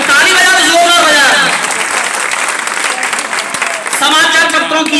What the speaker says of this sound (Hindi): भाई ताली बजा तो जोरदार बजा।